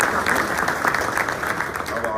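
An audience at a Good Morning Corona community event with Riverside County Sheriff Chad Bianco gives a round of applause, a dense, steady patter of many hands clapping throughout.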